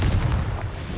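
A Confringo spell explodes in a wizard video game, a single short, deep boom that stays loud and rumbling through the moment.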